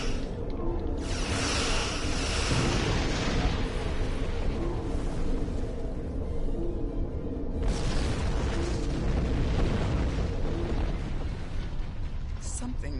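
Continuous weapon fire and explosions in the Star Trek Online space combat game, a dense, loud rumbling barrage with booming bursts sustained throughout the clip, with a voice speaking faintly underneath.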